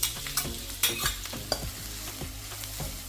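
Onion sautés in vegetable oil in a wok with a constant close sizzle, punctuated by frequent scraping stirs and knocks of a spatula against the metal.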